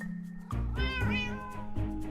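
A cat meows in the Minecraft video game, a few drawn-out, tonal cries heard up close over a steady low ambient hum, with no talking.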